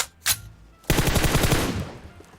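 Automatic rifle fire in PUBG Mobile, a short burst followed by a sustained rapid volley of loud, close shots with no talking.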